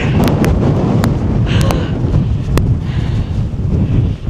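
Strong wind at a trig point buffets the microphone in a constant low roar, with a few sharp clicks and knocks scattered through it.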